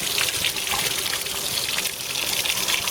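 Rusty coolant water drains from the heater tap of a Mercedes 280E, a continuous close gushing trickle of liquid splashing steadily for the whole stretch without pause.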